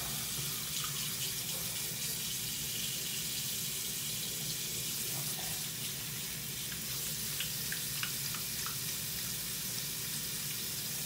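Water runs steadily from a tap into a sink, a continuous splashing hiss with occasional small drips and clinks, close by and uninterrupted.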